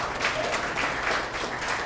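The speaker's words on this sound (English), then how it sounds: "Give him a round of applause." A crowd applauds steadily, dense clapping filling the whole stretch at a moderate distance, with no pauses.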